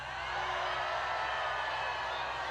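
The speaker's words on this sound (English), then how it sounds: "I hear some boos" Dense crowd noise at a Coachella rally, a broad continuous roar with some booing mixed in, loud and steady throughout without clear separate voices.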